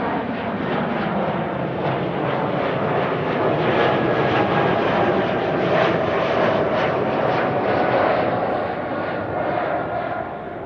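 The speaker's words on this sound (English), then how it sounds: "I think a couple of wide bodies will be arriving here pretty soon" An aircraft engine roars steadily at Amsterdam Schiphol Airport, a loud continuous broadband rush that swells slightly through the middle and eases toward the end, with no voices.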